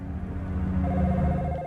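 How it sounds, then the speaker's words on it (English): A telephone rings inside the 1999 video game Dino Crisis, a steady electronic ring tone repeating over a low hum of background music, with no talk. "So that's just going to continue ringing and paging him."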